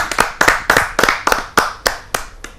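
Sharp, separate hand claps, about ten in a loose uneven rhythm, ring out clearly from an audience at a Hindi kavi sammelan poetry gathering as a poet is welcomed to the stage, with no talking over them.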